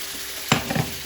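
Food sizzling in a pan, with a sudden burst of hiss and a few scraping stirs over a steady background frying sound.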